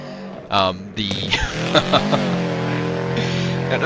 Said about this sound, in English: The car sounds in this game are freaking stellar.